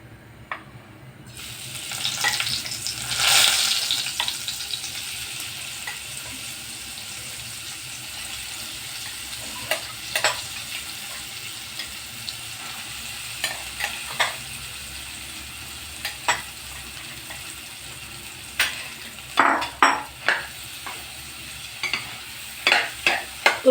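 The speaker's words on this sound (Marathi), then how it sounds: "आता यामध्ये स्मॅच केलेलं हे लगदा केलेलं रताळ स्वीट पोटॅटो आता आपण तुपामध्ये टाकणार आहोत." Mashed sweet potato lands in hot ghee and sizzles steadily in the pan, with repeated scraping and stirring knocks from a spoon against the pan over continuous frying noise.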